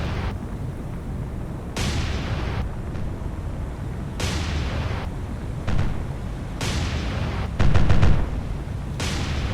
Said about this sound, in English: She's still firing her guns